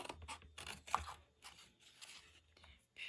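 Scissors snipping through a cardboard soap box, several short crisp cuts and crunches in quick irregular bursts, close and fairly quiet.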